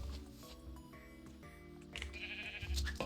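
Sheep bleating in the Minecraft modpack RLCraft Dregora, a few close, wavering bleats heard alone over quiet ambient game background.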